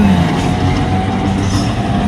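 A tram in Porto, Portugal, rumbling past loudly and close, a continuous heavy roar of wheels and motor with a faint high squeal.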